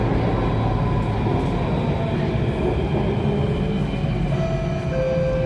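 An SMRT Circle Line C830 metro train runs between Botanic Gardens and HarbourFront in Singapore, heard from inside as a continuous dense rumble and rolling roar with faint high whines and no voices.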